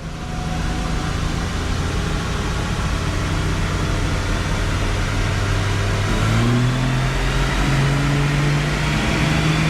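A car engine pulls hard at full throttle in second gear from about 2,000 RPM, a loud, steady rising drone that climbs in pitch, drops briefly partway through, then keeps rising.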